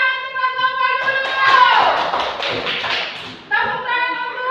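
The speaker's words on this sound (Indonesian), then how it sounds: "Tepuk tangan untuk Mas Nova dulu." Children clap their hands together in a classroom, a burst of quick overlapping claps of moderate loudness, with a voice speaking before and after and tonal sounds around the clapping.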